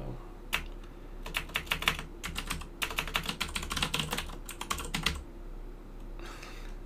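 Rapid bursts of typing on a computer keyboard while coding, close and clear, with clustered keystroke runs separated by short pauses.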